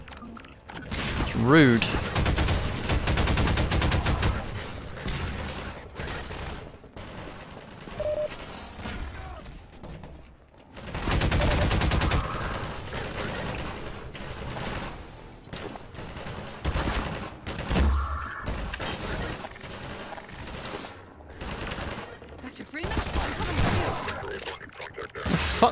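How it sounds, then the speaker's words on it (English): Half-Life 2 combat with bursts of gunfire and grenade blasts, rapid loud volleys and crashes through most of the stretch, with someone talking briefly over the action. "Stop throwing grenades at me."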